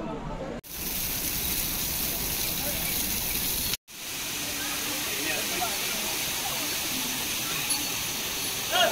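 Waterfall along the Kedarnath trek near Bhairav temple in the Himalayas, a steady broadband roar of rushing water close by, continuous throughout with two brief dropouts.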